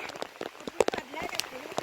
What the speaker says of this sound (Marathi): मित्रांनो फोड करताना आलाय पाऊस हे देखो पाऊस